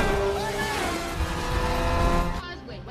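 A sports car chases a helicopter during an action film pursuit: a roaring engine and squealing tires run continuously under a layered music score, then drop away abruptly near the end.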